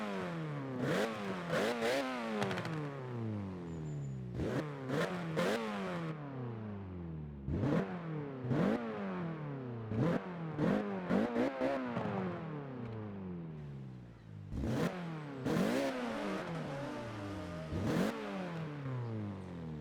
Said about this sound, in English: It's got a very nice, throaty, aggressive 4-cylinder sound to it.